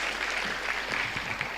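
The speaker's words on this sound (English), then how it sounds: "So a big round of applause for all of us who are here in happiness and gratitude." Applause from an audience gathered to celebrate the University of Delhi centenary at a wellbeing event: dense, steady clapping from many hands for a brief moment, with no voices over it.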